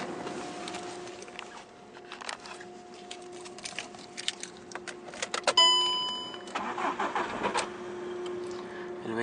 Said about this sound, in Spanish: El vehículo da marcha, no arranca.